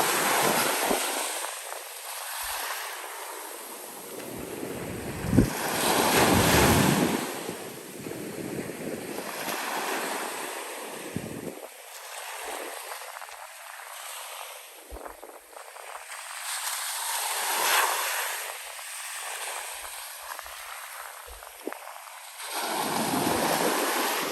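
Wind gusts buffet the microphone on a beach while ocean waves roll and wash ashore in the background, rising and falling in loud surges.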